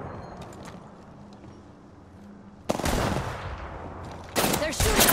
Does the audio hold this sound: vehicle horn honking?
no